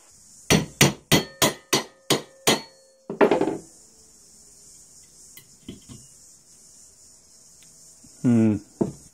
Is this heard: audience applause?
no